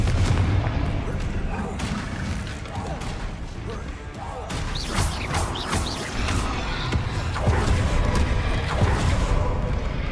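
Confringo spell blasts in the Hogwarts Legacy video game land as repeated booming impacts and crashes over a rumbling, busy soundscape, with a voice talking at points throughout.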